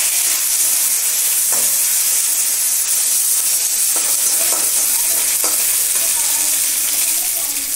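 Mustard seeds and curry leaves frying in hot oil give a loud, steady, close hiss and crackle, with a few brief pops and spatters rising above it throughout, no talking.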